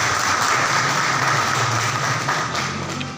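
Audience at a small district-level meeting of teachers and enthusiasts applauding one another, a loud, continuous wash of clapping that holds steady and eases slightly at the end.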